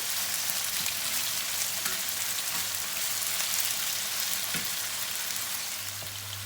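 Chicken and carrots fry in a pan on a high stovetop flame, a continuous crackling sizzle with a few faint stirring knocks, steady and close, no speech.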